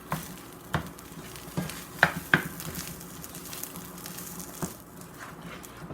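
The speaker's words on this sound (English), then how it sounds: "pan frying it and incorporating the onions until it's thoroughly heated through" Soft, steady sizzling of chicken tostada filling with onions frying in a pan, with a few sharp clicks and scrapes of stirring throughout.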